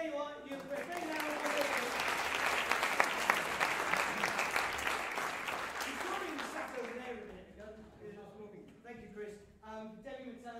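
A school summer concert audience applauds in a dense, steady burst that fades after several seconds, then someone speaks over the quieting hall.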